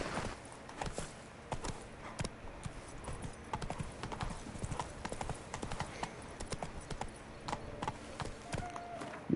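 Horse hooves clip-clopping at a brisk, irregular pace in The Witcher 3, sharp close strikes repeating over several seconds against a quiet game background, with no speech.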